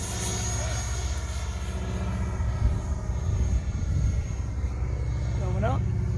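Steady whirring roar of a Freewing Avanti S 80mm EDF radio-controlled sport jet spooling up, with a low broad drone and a thin high whine, heard at moderate distance and fairly constant throughout.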